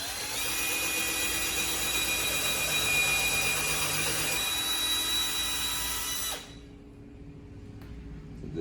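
A power drill with a bit bores into a Trex composite board for an outdoor bench, giving a steady, loud, high-pitched whine that holds for about six seconds and then stops, leaving quieter background hum.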